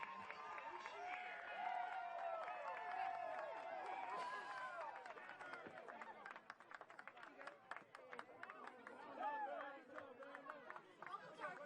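A basketball game crowd at Southeastern versus Savannah State cheers and chatters, a busy indoor hubbub with whoops, scattered clapping and voices rising and falling throughout.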